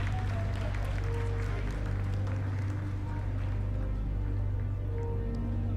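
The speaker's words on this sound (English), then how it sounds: "Lot of applause" Applause fills the mission control room during the Chandrayaan-3 lunar soft landing, a continuous wash of many hands over a steady low electrical hum.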